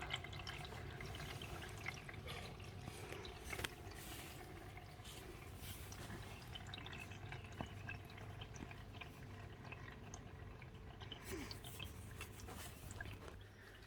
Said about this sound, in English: You can hear it draining.